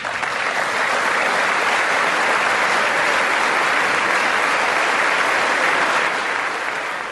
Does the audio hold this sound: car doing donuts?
no